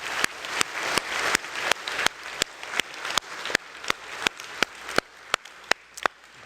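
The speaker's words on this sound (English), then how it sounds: "So I would just love for us to have a moment where we applaud Jesus." A church congregation claps at a sermon, producing a series of sharp, evenly spaced loud claps that stand out from a fading wash of scattered applause, close and rhythmic with no talk.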